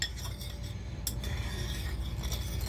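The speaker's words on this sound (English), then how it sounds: "what I'm going to do is mix it all together." Seasoning being mixed by hand for old-school smothered pork steaks: a steady rubbing, scraping stir with small glassy clinks throughout, close and fairly quiet, with no talking.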